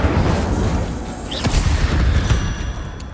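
Casting the Incendio fire spell in Hogwarts Legacy: a loud, dense burst of roaring, crackling flame and rumbling impact over a busy game soundscape, sustained for a few seconds without speech.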